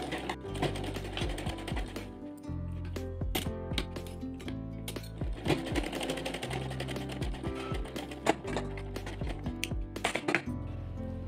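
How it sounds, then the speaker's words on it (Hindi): A sewing machine stitches a straight seam along the hem of a small cotton dress for a Laddu Gopal idol, running in rapid mechanical bursts with brief pauses between runs and no voices. "यहाँ जो सिलाई लगानी है हमें इस तरह सीधी लगानी है"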